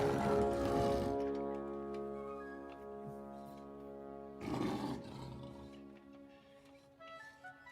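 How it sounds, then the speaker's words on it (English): A great roar from King Kong in the 1933 film, echoing the famous MGM lion roar, bursts loud and rumbling at the start and swells again midway, with a sustained orchestral music score underneath. "It sounds like the MGM roar."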